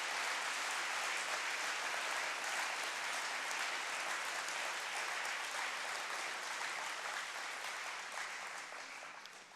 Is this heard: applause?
yes